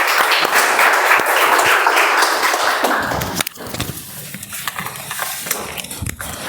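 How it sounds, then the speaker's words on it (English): An audience at a Toastmasters club meeting applauds steadily, a dense wash of clapping that fades after a few seconds into scattered claps and room noise. "a round of applause for everyone who took the stage"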